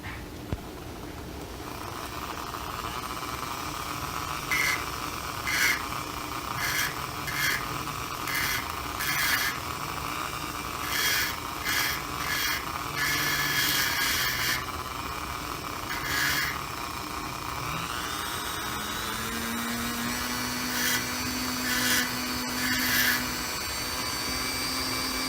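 A Dremel rotary tool grinds a Koroit boulder opal in steady, continuous whine, with repeated short surges and brief pauses as the bit presses on and lifts off the stone, close and moderately loud.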